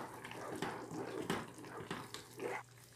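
Water runs from a kitchen tap to rinse out a tomato paste package, splashing and trickling unevenly in short bursts, with the stream shifting as the package is moved under it.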